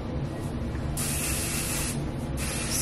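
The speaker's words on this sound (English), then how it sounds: "spray this all over my hair" Bursts of aerosol hair spray hiss close by, one short spritz followed by a long steady blast and another starting near the end.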